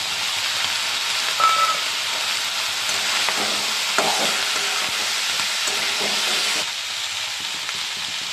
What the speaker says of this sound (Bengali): আমি গুঁড়ো লঙ্কা আর হলুদটা দিয়ে দিচ্ছি।